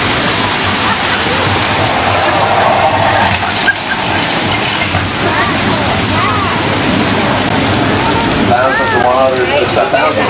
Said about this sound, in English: Thousands of gallons of water is rushing towards us.